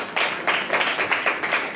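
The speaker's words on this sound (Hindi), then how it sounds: "पास्टर सलीम के लिए जोर से ताली बजाइए।" An audience at a church service claps for Pastor Salim, dense, continuous applause with rhythmic surges and no voices.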